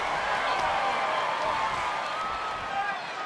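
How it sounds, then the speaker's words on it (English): A wrestling video game arena crowd roars in a continuous, loud wash of cheering, with a commentator talking over it. "The sound of this crowd is deafening, and he's asking for more."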